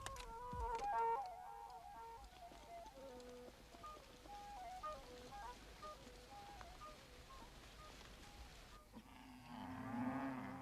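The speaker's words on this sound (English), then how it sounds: "Cattle have been the other great agricultural resource on these broad plains." Cattle lowing across broad African plains, a string of drawn-out moos carrying over a steady ambient backdrop, with a brief shift in the background near the end.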